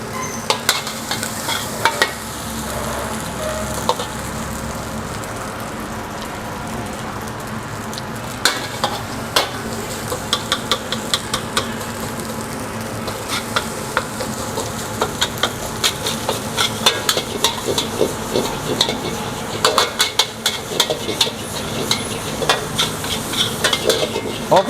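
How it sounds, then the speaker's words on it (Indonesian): Fried rice being stirred in a sizzling pan, a steady frying hiss under repeated scraping and clinking of a spatula against metal, close and continuous throughout. "Kita aduk-aduk."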